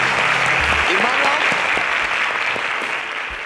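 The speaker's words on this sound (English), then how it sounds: "A round of applause for that." A studio audience on a Nigerian quiz show semi-final claps steadily and loudly, the applause fading slightly toward the end, with a brief voice under it.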